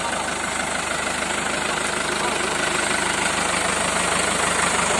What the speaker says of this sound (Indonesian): Ini traktor yang kita gunakan.